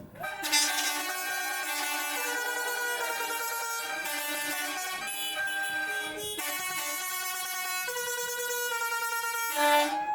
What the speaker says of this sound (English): We're going to hear from the tractors.